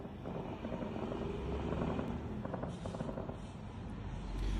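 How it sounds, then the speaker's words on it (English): Russian air defense small arms fire at incoming drones over a city at night, a dense crackle of distant gunshots over a low steady drone-like rumble, faint and far off. "We were able to get a clip here of the Russian air defense, pretty much small arms fire, attempting to shoot down the drones as they were coming in."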